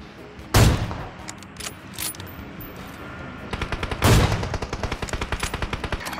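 Video game gunfire crackles in loud bursts, with two heavy blasts and a rapid machine-gun rattle toward the end, over a steady background rumble.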